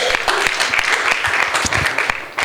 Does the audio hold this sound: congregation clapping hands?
yes